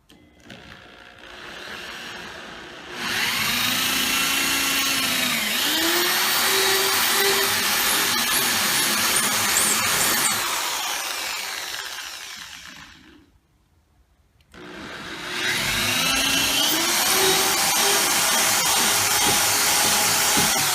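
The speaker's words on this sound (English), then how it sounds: "we're going to go ahead and drill some holes into the drywall." A power drill whines loudly in two long runs, its pitch rising and falling as it bores holes into drywall at a stud, separated by a short quiet pause; no talking.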